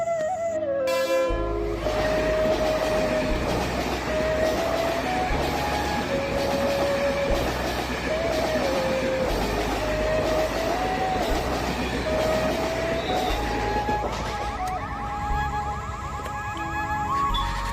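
A train rumbles past a railway level crossing, loud and sustained, with wheel clatter throughout and a wavering, siren-like warning tone sounding over it from start to finish.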